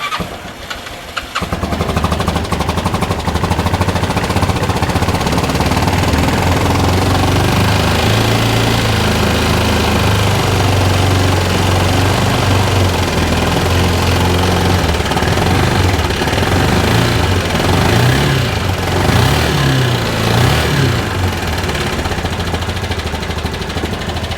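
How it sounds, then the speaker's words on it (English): A Bennche 500 UTV motor, formerly knocking and smoking, runs steadily at a loud idle for the whole stretch after a brief start, with low engine drone and faint mechanical ticking. "The motor sounds really, really normal."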